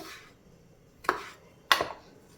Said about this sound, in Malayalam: നമുക്ക് ഇനി ക്യാരറ്റ് ഇതുപോലെ കനം കുറച്ച് നീളത്തിൽ അരിഞ്ഞെടുക്കാം